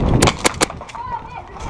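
Three sharp Glock pistol shots in a tactical shooter video game, fired in quick succession at close range, then a lingering tail and faint background game sounds.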